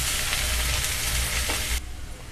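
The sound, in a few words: finely chopped onion frying in pan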